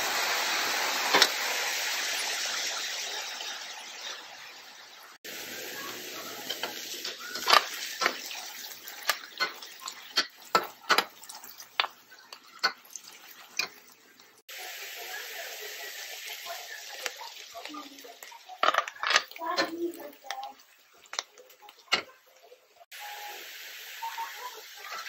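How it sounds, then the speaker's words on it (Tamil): Onions sizzle in hot oil with a continuous frying hiss, broken by scraping and clicking as a spatula stirs the pan. "இந்த அளவுக்கு பொன்னிறமா வெங்காயத்தை வறுத்துக்கோங்க."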